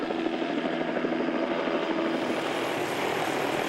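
Helicopter rotor and engine drone, loud and steady throughout as the aircraft takes up the weight of a slung load on its hook, a continuous broadband roar with no pauses.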